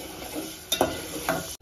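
Tomato paste frying on high flame for a village-style mutton curry, a close steady sizzle with two quick stirring scrapes, brief and unaccompanied by talk.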